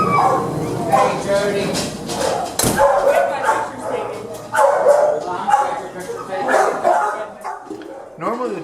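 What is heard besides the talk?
excited dogs barking loudly in kennel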